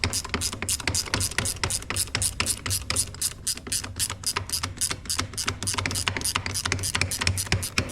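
A ratchet removes the top and bottom brake caliper bolts on a RZR side-by-side, a fast, steady run of close, crisp clicks repeating throughout.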